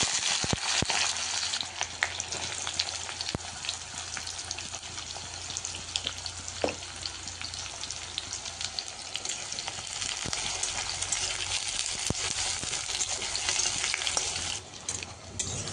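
Onions sizzle steadily in hot oil with cumin seeds, a dense, continuous close-up frying hiss with occasional stirring clicks, running for the full length without talk.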